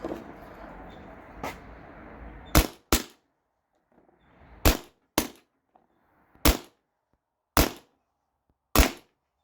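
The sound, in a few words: airsoft gun firing heavy 10.9 gram riot balls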